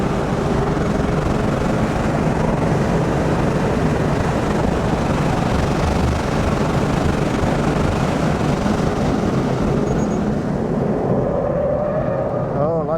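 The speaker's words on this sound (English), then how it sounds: "And then onto the throttle through the chicane." A 2023 Toyota GR86 engine accelerates hard through a chicane on a track, a loud, steady in-car drone mixed with wind and road roar, holding constant with a slight change in tone near the end.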